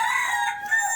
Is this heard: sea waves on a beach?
no